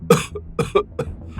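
A human voice imitates a lion coughing hard in a spoken animal story, giving four loud, harsh coughs spaced in quick bursts, close and alone.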